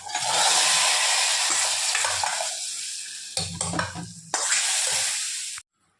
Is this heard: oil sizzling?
yes